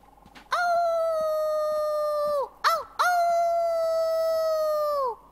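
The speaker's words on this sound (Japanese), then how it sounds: "狼の遠吠えね。" A wolf howls in the video game Life is Strange 2, two long, clear, sustained howls broken by a short yelp, close and loud against a quiet background with no talk.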